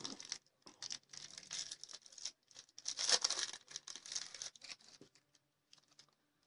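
Packs of 2008 Phillies World Series championship baseball cards are torn open from a box set, with close crinkling, tearing and papery rustles in quick irregular bursts that fade into faint handling at the end.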